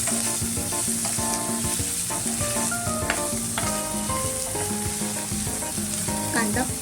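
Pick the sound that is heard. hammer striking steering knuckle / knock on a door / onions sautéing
onions sautéing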